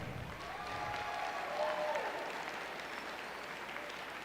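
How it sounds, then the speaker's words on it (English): A crowd at a Special Olympics Wyoming summer games event in Gillette applauds the meal donors, a sustained round of clapping and some cheering from a large audience that holds steady throughout. "Give them a big round of applause."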